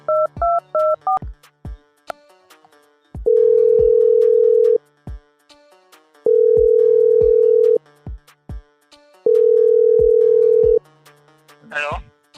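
A phone call is placed: a quick burst of keypad dialing tones, then three long, evenly spaced ringback tones separated by pauses, ending with a brief faint noise.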